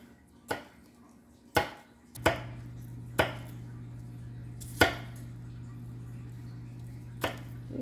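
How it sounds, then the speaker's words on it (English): Apples being chopped with a knife on a cutting board for an apple berry bread pudding, about seven sharp, separate chops spaced irregularly over a low steady background hum. "So you're just cutting up these apples, and don't have to be too small."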